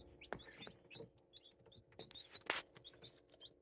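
Newly hatched chicks on a hobby farm, a cluster of faint, high, rapid peeps repeating close together with soft rustling and occasional louder chirps.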